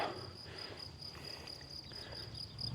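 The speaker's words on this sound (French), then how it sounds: "On a le bruit des grillons." Crickets chirp steadily in a high, continuous trill, with faint outdoor ambience underneath, in the village of Autoire in the Lot, France.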